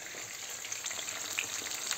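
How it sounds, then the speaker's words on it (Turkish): Steady, dense sizzling of eggplant frying in hot oil, close and constant, with small pops and no talking. "böyle patlıcanlarımız kızarıyor"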